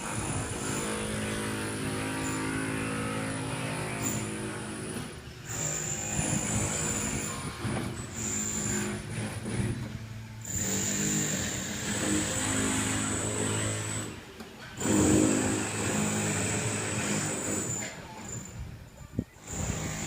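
A Sydney Trains V set returning from Lithgow rolls into platform 1 at Mount Victoria station, with a continuous rumbling, hissing approach that swells and fades in waves throughout.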